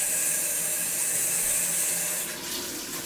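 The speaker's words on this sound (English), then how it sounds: "Cold tap water." Cold tap water runs steadily from a faucet into containers for brewing kombucha, a constant close hiss and splash that fades slightly near the end.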